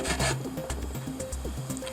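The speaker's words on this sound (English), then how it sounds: "use the brass brush to just remove the bulges of wood around the nails" Brass wire brush scrubbing an MDF surface around nail heads, knocking down raised bulges of wood: repeated short back-and-forth rubbing strokes in a steady rhythm, close and fairly loud, with no talking.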